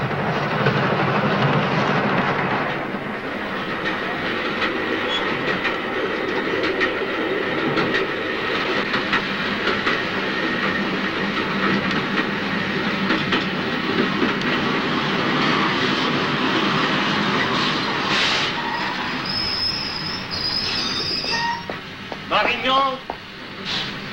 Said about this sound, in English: The train is just leaving.